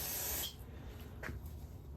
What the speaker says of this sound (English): we got to spray down a napkin